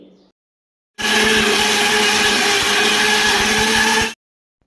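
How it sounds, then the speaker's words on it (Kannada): A mixer grinder grinding tomatoes whirs loudly for about three seconds, starting and stopping sharply, with a harsh, steady grinding roar. "ಒಂದು ಸ್ವಲ್ಪ ನೀರನ್ನು ಹಾಕ್ಕೊಂಡು ಗ್ರೈಂಡ್ ಮಾಡ್ಕೊಳ್ಳಿ"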